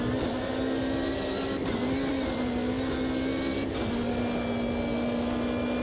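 Race cars in the Automobilista 2 sim racing game give a loud, steady, high engine drone at speed, holding one sustained pitch throughout with no talking.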